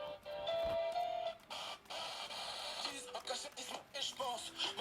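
A small radio powered by a hand-turned electricity generator plays faint, wavering broadcast sound mixed with whirring noise, rising and dipping as the crank turns.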